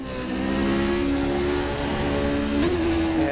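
A race car engine heard from the cockpit in the rFactor 2 sim-racing game drones loudly and steadily, then its pitch rises briefly as the revs climb near the end.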